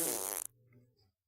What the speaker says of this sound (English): The fart show wasn't funny.